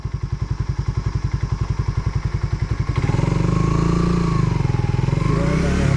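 A motorcycle engine idles with a fast, even putter, then grows louder and fuller partway through as it revs slightly, close by.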